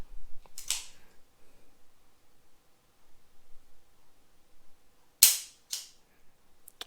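Single-action dry fire on a revolver, a Colt King Cobra Target or Ruger GP100, gives a few sharp, close metallic snaps. They are separated by long quiet gaps, with two clustered clicks near the end.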